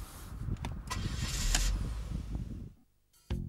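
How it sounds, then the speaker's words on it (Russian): A 2006 Fiat Croma petrol engine running steadily at idle, a low rumbling drone with some mechanical rattle and vibration, close by, then it cuts off briefly before resuming. "Двигатель тарахтит и вибрирует на холостых оборотах"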